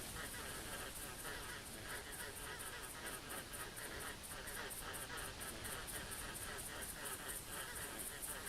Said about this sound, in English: It's just one geese. Why is it making all that noise?